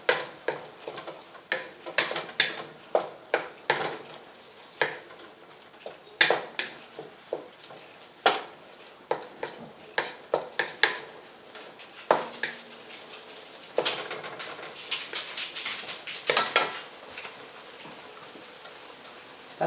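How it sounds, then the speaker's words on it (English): A spoon or spatula stirs meatball sub ingredients seasoned with cayenne in a pan, making repeated sharp scraping and clinking strokes at an uneven rhythm, close and moderately loud, with no voices. "Add a little bit of cayenne. Give it a good stir."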